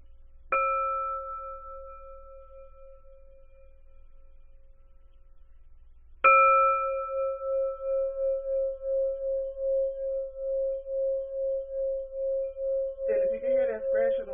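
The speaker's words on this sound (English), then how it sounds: "if you can hear that scratching noise is the vibration of the bowl with vibrating the pendulum" A singing bowl struck twice, each strike a clear ringing tone with a long sustain that swells and pulses, then a pendulum touching the vibrating bowl adds a brief buzzing, scratchy rattle near the end.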